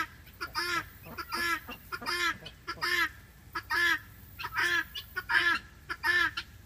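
Female guinea fowl giving a repeated two-part call in a steady rhythm, about a dozen harsh squawks close by with short gaps, no voices.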